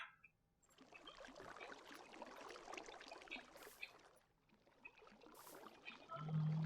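Running water flows and trickles in a Minecraft world near freezing water, a faint, continuous splashing babble that dips briefly and then returns, alone with no voices.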